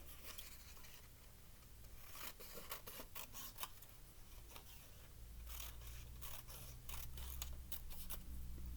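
Scissors snip through strips of green paper in a series of short, crisp cuts, fairly close and quiet, with light rustling of paper between the cuts and no talking.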